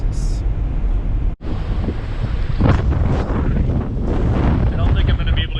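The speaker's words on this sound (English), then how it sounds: "It says gusts up to 70 miles an hour." Strong gusty desert wind with gusts up to 70 mph, buffeting the microphone in loud, continuous broadband rushes with surging peaks and one brief dropout, heard alone with no talk.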